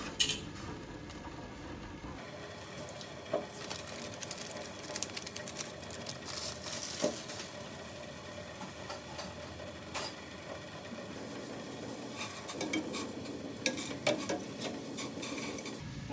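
Dry spaghetti noodles are dropped into a pot of boiling salted water, giving soft clinks and rattles of cookware against a faint, steady background, with no talk.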